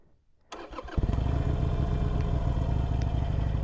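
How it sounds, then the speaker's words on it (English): Harley-Davidson Iron 883 motorcycle engine starting: a brief starter whir, then the V-twin catches and settles into a loud, steady, lumpy idle close by, with no talking. "this button right here starts the bike."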